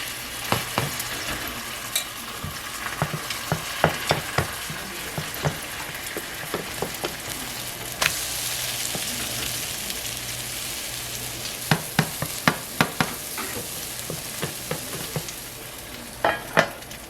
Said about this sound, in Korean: 오일을 두른 팬에 반죽을 넣어 식빵 모양으로 예쁘게 만들어 줄게요.